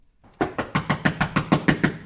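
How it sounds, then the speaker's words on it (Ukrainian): Knocking on an apartment door: about ten firm, evenly spaced raps in a steady rhythm, close and loud, with nobody speaking. "Скільки б ми не стукали у двері, нам так ніхто й не відкрив"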